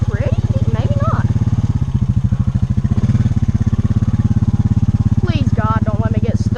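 A Honda four-wheel-drive vehicle idles and rumbles steadily as it eases forward into deep water, the engine note loud and close throughout, with a person speaking over it.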